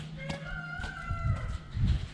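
Chickens in a barnyard on a foggy, wet morning, with a rooster crowing in a drawn-out call and soft clucks underneath, moderately distant and faint.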